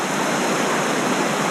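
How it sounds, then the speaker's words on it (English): A waterfall on Koh Phangan, Thailand, gives a steady, full rush of falling water, loud and close, with no break over the short span and no voices. "Like a waterfall, eh?"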